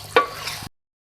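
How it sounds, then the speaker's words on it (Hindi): Beef with green chilies and coriander stirred in a pan, a brief close scrape and soft sizzle lasting about half a second before cutting to silence. "अब उसको हम मिक्स करेंगे और 2 मिनट के दम पे रखेंगे"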